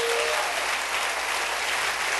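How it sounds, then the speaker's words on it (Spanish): Church congregation applauding for a preacher, a steady dense wash of clapping filling the whole stretch at even loudness with no voices over it. "Denle un aplauso al Rey bendito."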